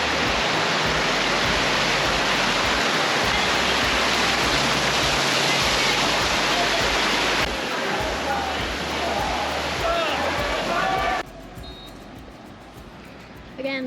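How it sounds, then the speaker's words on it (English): Steady, loud rushing water pours continuously from a resort pool waterfall at Dreams Playa Mujeres, a dense broadband roar that drops in intensity toward the end. "It's like a magical waterfall."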